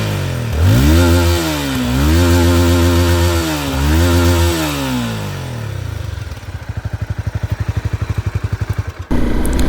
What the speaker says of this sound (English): Now let's rev it.